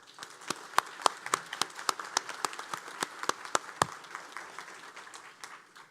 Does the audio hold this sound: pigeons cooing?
no